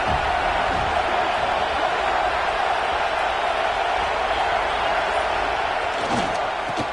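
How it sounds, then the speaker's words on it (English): A football stadium crowd roars as a steady, loud, distant wash of cheering and noise that fills the whole stretch without letting up. "This crowd ready to make its presence known."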